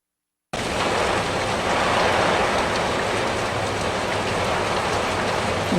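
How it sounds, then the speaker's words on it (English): Steady rain falls at a town parade, a dense, even hiss that starts abruptly after a brief silence and holds at constant moderate loudness with no voices. "No tornado, but we did get some rain."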